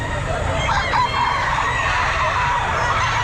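A gamecock crows close by at a busy pet market, one strained drawn-out call over steady crowd murmur and background clucking.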